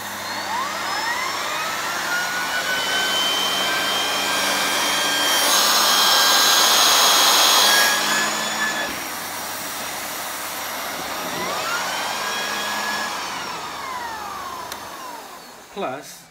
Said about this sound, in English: it's a bagged vacuum cleaner. It's made by Hoover and it's really powerful.